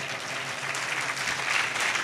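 Audience applause at a Jain religious discourse, steady dense clapping from a crowd filling the whole stretch at an even level.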